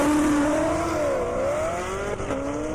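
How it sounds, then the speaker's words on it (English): A Chevrolet Camaro drag car rumbles at an airstrip drag strip, its engine note rising and dipping loudly as it rolls up to the line, with a brief blip near the end. "the Camaro pulling up to the line"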